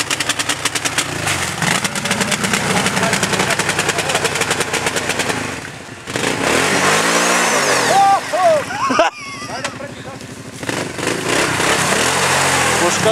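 An ATV engine revs hard and loud under throttle, with rough pulsing bursts that rise and drop across the clip, close by with people shouting over it.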